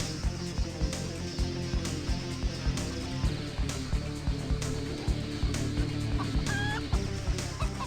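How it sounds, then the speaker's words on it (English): Clucking chicken noises in a retro video game repeat in short bursts over rhythmic, steady game music with a beat, at moderate loudness and with no talking. "I'm hearing chicken noises."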